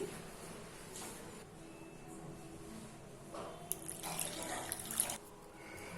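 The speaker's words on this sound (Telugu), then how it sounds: "తగినన్ని వాటర్ వేసి బాగా కలుపుకోవాలి." Water runs in a steady pour into spiced batter for chilli bajji, softening and then swelling louder toward the end with some splashy, wet stirring sounds.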